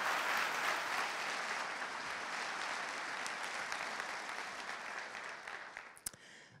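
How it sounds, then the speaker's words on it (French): An audience at a conference keynote applauds a speaker in steady, dense clapping that fills the hall, slowly fading toward the end with a few last claps. "un grand applaudissement pour Céline Lazorte."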